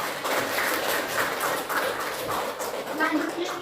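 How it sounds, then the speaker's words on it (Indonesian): A university class applauds with steady, dense clapping that fills the room without a break, while voices carry over it. "Kita kasih tepuk tangan dulu buat kita."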